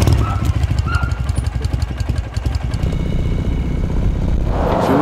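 A Russian motorcycle engine idling close by in Levelland, Texas, a rapid uneven low thumping putter that holds steady, with a faint voice briefly heard over it.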